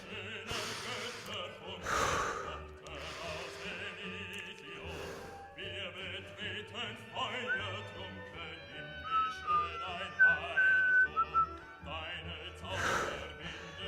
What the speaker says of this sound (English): Sorry, I know I whistled.